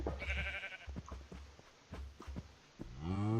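Cattle mooing in the Minecraft video game, a few low drawn-out moos with short clicks and thumps between them, close and fairly loud, with no talk.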